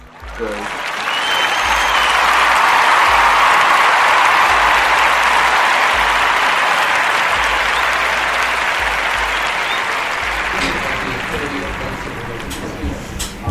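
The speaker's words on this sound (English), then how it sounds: "We're going to give that one some applause." A crowd at a freestyle open-mic event applauds loudly and continuously for over ten seconds, fading near the end as a voice starts speaking.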